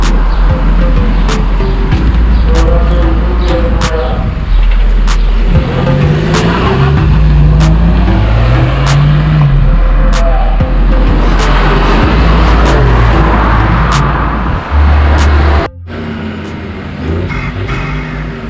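An Audi A3 engine with an aftermarket air filter revs repeatedly to about 6000 rpm, pitch climbing and dropping in loud bursts close by, before cutting off near the end.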